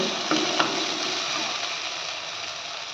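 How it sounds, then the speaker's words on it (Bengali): Water poured into spiced potol and prawn masala in a pan sets off a steady, moderate frying hiss, with a couple of brief clicks early on and the sizzle holding evenly throughout. "এবারে আমরা এর মধ্যে একটু জল দিয়ে দেব"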